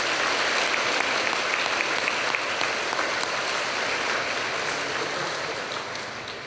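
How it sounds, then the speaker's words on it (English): Sustained applause from a gala audience at an alumni awards evening, a dense wash of many hands clapping steadily throughout and easing slightly toward the end. "If you could join me in a round of applause for having us here."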